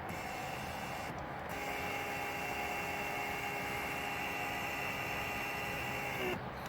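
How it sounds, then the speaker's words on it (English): Lumbar-support air pump in a C5 Corvette seat running in reverse to draw air out, a faint, steady electric whine with a constant tone that starts abruptly and cuts off cleanly after several seconds. "that same pump pulls the air out of them"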